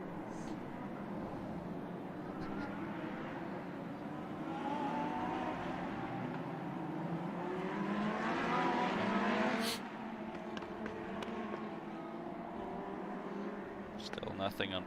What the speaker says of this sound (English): and cars are rolling